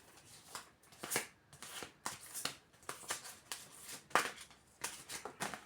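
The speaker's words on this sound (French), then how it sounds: "Il me dit de la prendre à la coupe. Et ben, je vais refaire une coupe." Tarot cards being shuffled and cut by hand give a run of quick riffling bursts at an uneven rhythm, close up and fairly soft, with no voices.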